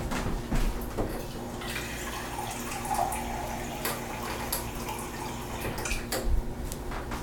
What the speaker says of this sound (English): I'm going to pour that into the borax